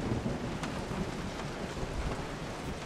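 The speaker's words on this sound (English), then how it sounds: "It's raining." Steady rain with a low rumble of thunder in a Resident Evil 7 game scene, a continuous dense wash without a distinct clap, constant and moderately loud throughout.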